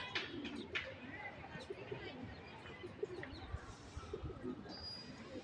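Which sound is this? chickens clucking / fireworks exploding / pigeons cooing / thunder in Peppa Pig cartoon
pigeons cooing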